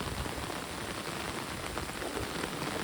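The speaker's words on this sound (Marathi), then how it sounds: "पाऊस चालू आलेला आहे" Steady rain from the first monsoon downpour of the season falls outdoors, a dense, even patter on surfaces with no gaps and no voices.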